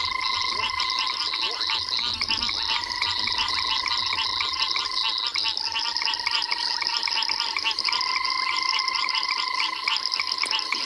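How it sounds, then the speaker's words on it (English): A dense evening chorus of banded rubber frogs and cacos on a South African safari reserve, steady pulsing trills and bleats layered together, loud and unbroken with no talk. "it's definitely these banded rubber frogs that are just drowning everything else out with that"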